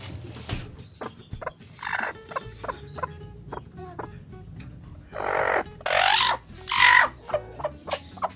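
A hen clucks and squawks near the microphone while being set down onto a clutch of twelve eggs on a small farm, with bursts of agitated fowl calls between quieter rustling.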